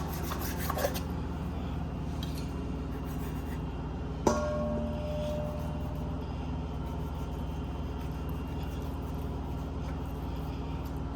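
A knife saws and scrapes through pork spare ribs in a steady rubbing rasp, with one sharp knock of bone or board partway through, close and fairly quiet with no talking.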